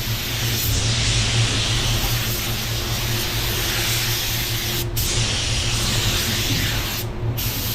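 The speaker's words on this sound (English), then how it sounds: "So now I'm kind of doing a control coat type of coat here" A spray gun lays down a control coat of PPG car paint in a tricky T4900 color, a steady, loud broadband hiss running without pause, with two brief dropouts where the trigger releases.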